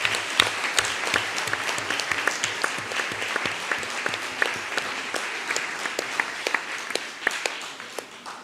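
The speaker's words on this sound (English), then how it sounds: "I would say one last round of applause for every single person who took part." A hall audience at a digital heritage summit breaks into sustained applause, dense steady clapping from many hands lasting several seconds, close and full.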